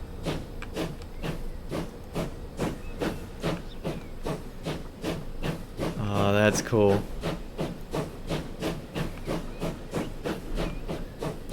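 A steam locomotive in Transport Fever 2 chuffs in a steady rapid rhythm of hissing bursts, with a brief mid-clip swell of louder steam and whistle-like tone, while someone talks briefly over it.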